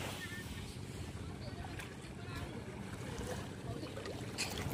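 Steady rumble of many boat engines and water with wind buffeting the microphone, voices talking faintly underneath.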